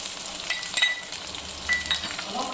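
Groundnuts fry in a pan with tamarind, ginger, onions and curry leaves. A brief, steady sizzle is broken by a few light metallic clinks as they are stirred.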